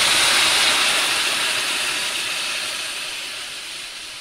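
A loud broadband hiss of water poured into a hot pan to make a sauce, starting strong and slowly fading as the sizzle settles.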